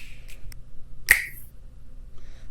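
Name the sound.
small finger snap percussion sample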